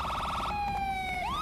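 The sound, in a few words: siren of the safety car at a hill climb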